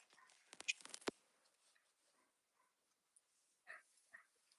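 A Labradoodle dog gives a quick burst of sharp, close barks and yips indoors, followed by a couple of softer, fainter yelps after a short pause.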